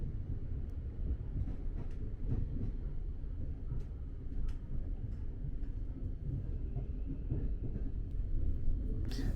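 A train rumbles steadily into London Blackfriars station, with low rolling wheel noise and occasional faint clicks and squeaks over the steady drone.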